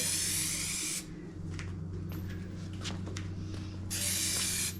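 Two loud bursts of Rust-Oleum outdoor fabric spray paint hissing from a fan-spray can, one at the start and one near the end, with a quieter stretch and a low hum between them.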